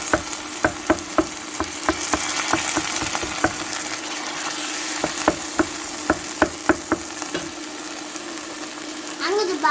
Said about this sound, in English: Gonna add the tomato in. And we're basically just gonna bash that up.